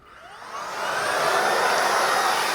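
A Miele Triflex HX2 vacuum cleaner spins up and runs steadily, its broadband whine swelling over the first second into a loud, sustained close-up roar with no talking.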